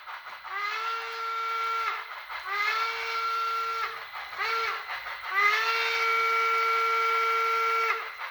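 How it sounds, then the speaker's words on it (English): Three long steam whistle blasts from a SoundTraxx Tsunami 2 sound decoder in a Bachmann Spectrum 2-6-6-2 model locomotive, with added reverb giving a slight echo, each holding a steady tone before cutting off, separated by short gaps. "I messed a bit with the reverb too, so that way it would be a little echoey, the whistle"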